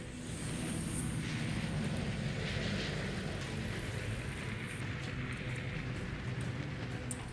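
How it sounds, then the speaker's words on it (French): Fighter aircraft attack a ship in the naval video game World of Warships, a dense, steady roar of engines and rumbling combat noise that fills the whole stretch with no talk over it. "il y a des chasseurs qui m'attaquent."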